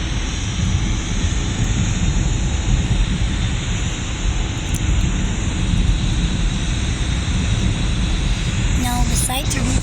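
A loud, continuous turboprop airplane engine roar in Pilot Training Flight Simulator, with a steady high whine on top, unbroken throughout, with a faint clicking burst near the end.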